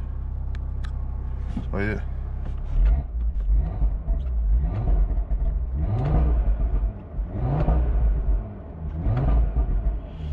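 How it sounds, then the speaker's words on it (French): An Audi RS3 with an ABT tune and 500 horsepower starts and rumbles low and steady, swelling through several revs up and back down, with a brief voice speaking over it. "Maintenant on va allumer le moteur de la bête."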